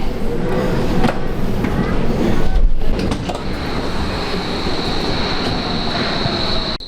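A Hamburg metro train runs along the ring line, a loud continuous rumble and rush heard from inside the car, with a brief dip in the noise and a steady high whine later.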